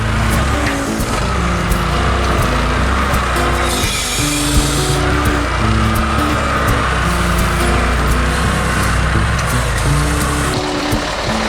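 A truck being loaded with pallets of Christmas hampers, giving a continuous loud engine drone with scraping, rubbing and knocking of pallets throughout.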